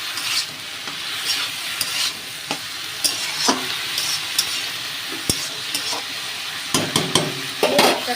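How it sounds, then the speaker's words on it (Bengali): A spatula stirs red amaranth greens, seasoned with a little turmeric, frying in a pan, giving a steady sizzle broken by repeated scraping knocks against the metal, close up with no voices. "দিয়ে এবার এটাকে আমি ভালো করে নাড়াচাড়া করবো।"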